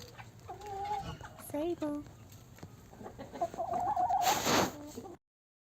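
Orpington and Australorp hens clucking close by in a short series of calls with rising tones, ending in a louder burst of squawking before falling silent.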